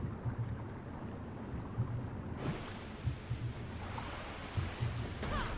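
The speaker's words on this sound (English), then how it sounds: "I think I prefer the sound of waves and seagulls shrieking" Ocean waves in the video game Wavetale: a continuous rolling wash of surf and wind, with soft rhythmic swells and a brighter burst of spray midway, with no speech.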